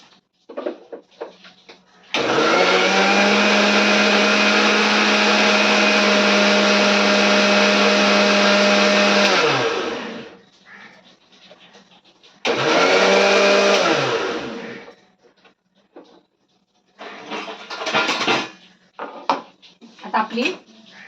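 A kitchen blender grinds mint chutney in a loud, steady whir for about eight seconds, stops, then runs again in a shorter burst, with clattering and faint talk around it.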